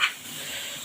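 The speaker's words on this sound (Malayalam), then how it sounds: "പുട്ട് ആവിയൊക്കെ വന്നിട്ടുണ്ട്" A brief, soft hiss of steam escaping from a puttu steamer, slightly stronger at the start, then a faint steady rush.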